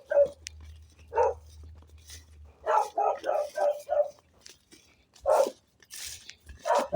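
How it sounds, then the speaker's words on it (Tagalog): A dog barks repeatedly near a rural farm field path in a village, loud bursts in irregular runs, with a low engine-like hum early on. "Tumatahuli ang aso."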